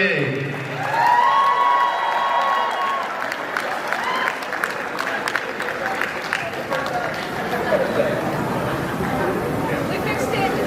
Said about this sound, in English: please give a round of applause for Mr. and Mrs. Pandey.